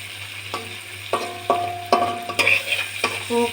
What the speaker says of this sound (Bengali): কেটে রাখছিলাম পেঁয়াজ মরিচগুলি মাছের সঙ্গে এবার আমরা ভেজে নেব।